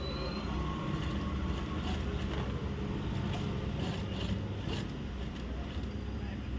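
A sewing machine stitching piping onto a ready-made blouse runs in a steady, continuous mechanical whir, close and fairly loud, with faint background noise throughout.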